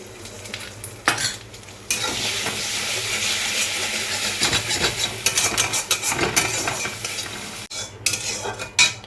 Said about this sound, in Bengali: প্রথমে ডিমটা একটু ভেজে নেব।